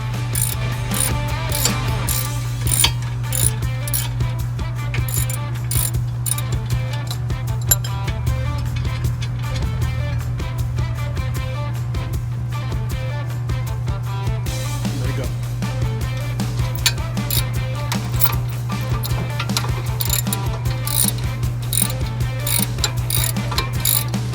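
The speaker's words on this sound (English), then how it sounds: "Those are 17 millimeter bracket bolts that have to be removed." A ratchet works the 17 mm brake caliper bracket bolts on a 2014 Honda Accord EX-L V6, giving a rapid, continuous clicking that runs close and loud over a steady low hum.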